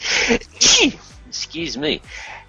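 A single sharp sneeze bursts out near the start, followed by a person speaking briefly afterward.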